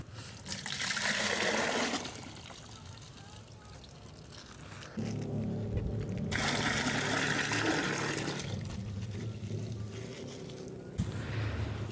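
Coconut water poured into a lidded container while making liquid organic fertilizer; a long, loud rushing pour that shifts in tone as the vessel fills, with brief pauses between streams and no talking.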